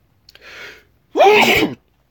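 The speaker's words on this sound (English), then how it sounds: "Oh man, I'm sneezing tonight." One sneeze lands close and loud, its short sharp breath intake followed by a forceful voiced burst, then silence.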